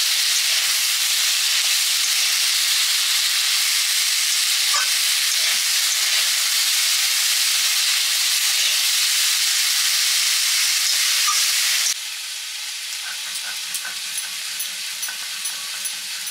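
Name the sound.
sizzling as chingri greens are added to fried potato and eggplant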